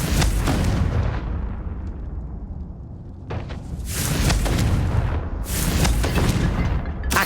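Heavy booming blasts from the Confringo fire spell in the Hogwarts Legacy video game, two or three loud explosive bursts with rumbling tails, close and dominant.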